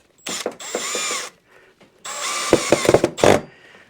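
A power drill drives screws to fasten a cherry end table panel down; two close bursts of whirring motor with the ratcheting clatter of the screw seating, separated by a short pause.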